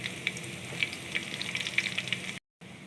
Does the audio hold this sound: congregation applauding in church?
no